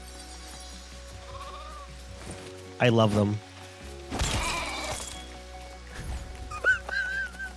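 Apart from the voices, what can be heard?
sheep bleating in the video game Lego Fortnite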